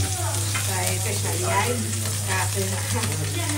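Phuti fish fries in a pan in a home kitchen, giving a steady close sizzle and crackle throughout, with voices talking faintly underneath and a constant electrical hum.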